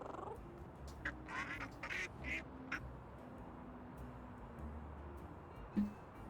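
Duck quacking in the game Little Kitty, Big City: a cluster of quick quacks early on, then sparse calls fading over soft background music, with one brief louder blip near the end and no speech.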